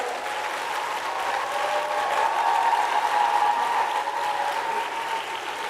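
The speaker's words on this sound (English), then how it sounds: "give your family and friends a round of applause" An auditorium audience at a university graduation ceremony claps in sustained, even applause, a dense wash of hands from many people at moderate distance.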